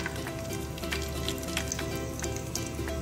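Mixed garam masala spices frying in hot oil for a chickpea curry, giving a steady, dense sizzle that stays close and even throughout, with no talk.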